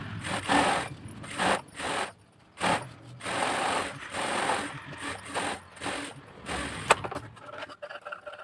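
Sewing machine stitching patchwork fabric in bursts of rapid mechanical clatter, stopping and starting several times with short pauses between runs, close and moderately loud.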